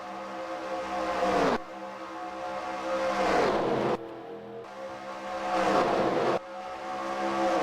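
Race cars in a video game roar around Daytona International Speedway in a 100-lap event, a loud, continuous engine drone with rising and falling pitch as packed cars draft and pass close by.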